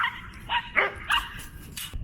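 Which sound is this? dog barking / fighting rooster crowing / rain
dog barking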